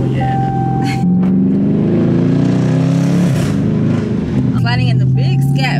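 A Dodge widebody Scat Pack runs close and loud, its engine note stepping through a downshift with deep, rising and falling exhaust tones, while people talk over it.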